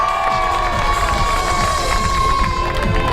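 A crowd at a triathlon prize-giving for youth and senior categories cheers and shouts loudly, with excited children's voices rising from the steady roar of the spectators.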